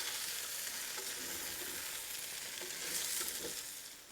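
Onions for Irish lamb stew cook in a pot with a steady, close sizzle and soft crackle, a continuous frying hiss with a few faint stirring knocks and no voices.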